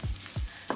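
Clams frying in an open pan and being stirred, two scraping sweeps of the spoon through the sizzling shellfish, close and fairly soft, then a brief clink at the end.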